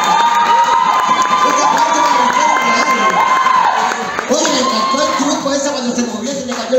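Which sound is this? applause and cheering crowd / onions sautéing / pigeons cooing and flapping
applause and cheering crowd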